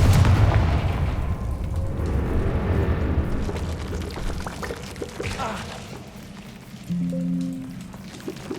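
Confringo fire spells in the video game Hogwarts Legacy explode as loud, rolling booms that rumble and decay at the start, with quieter bursts and crackles following.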